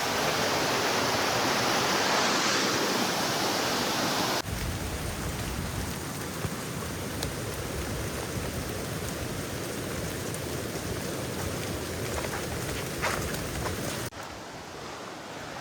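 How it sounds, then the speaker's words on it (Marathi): A waterfall near the Kondane caves outside Karjat gives a steady, broadband rush of falling water, loud and continuous throughout, with no voices. "इथे पण एक बघता धबधबा आहे"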